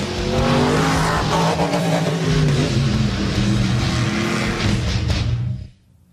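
Monster trucks racing on an outdoor track, engines roaring loudly and continuously with tire skids, cutting off abruptly near the end.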